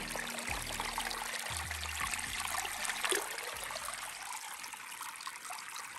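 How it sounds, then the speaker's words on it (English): Redwood Creek in Kings Canyon National Park, California, running in mid-May, gives a steady, close rush of flowing water that fills the whole clip. "This is all the water that is running through it, mid-May."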